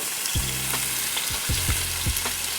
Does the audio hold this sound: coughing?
no